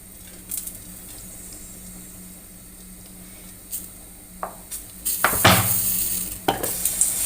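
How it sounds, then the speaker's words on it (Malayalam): Oil poured into a hot pan breaks into sizzling near the end after some quiet clinks and knocks of cookware, rising to a bright, close hiss. "ഞാൻ എണ്ണ ഒഴിച്ച് കൊടുക്കുകയാണ്."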